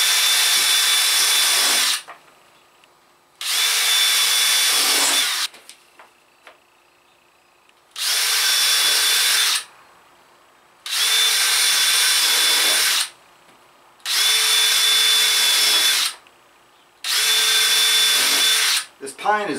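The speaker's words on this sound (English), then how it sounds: "I line it up and drill." A power drill whines loudly in six bursts of a couple of seconds each, boring through soft pine, with short quiet gaps between runs.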